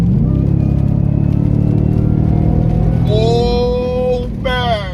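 A 2023 Ford F-150 Raptor R's 5.2-liter supercharged V8, shared with the Shelby GT500 Mustang, rumbles loudly and steadily up close, then rises into two sharp whining revs near the end.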